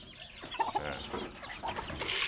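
Chickens clucking on a Thai farm that breeds bloodline birds, several close, distinct clucks in an uneven rhythm over light farmyard background noise.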